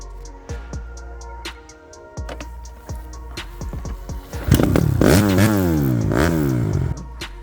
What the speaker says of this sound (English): The bikes we will be riding today are the Honda 150 and Finn will be riding the Talaria Sting.